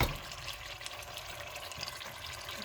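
Water being poured for Tunisian couscous, a steady close splashing and trickling stream that runs unbroken and fairly even for the whole stretch, with no voices.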